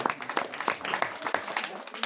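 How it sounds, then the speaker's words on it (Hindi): Onlookers at a village wrestling match clap in bursts for the event's sponsor, scattered claps mixed with voices talking over them. "ताली बजा दिए जोर से।"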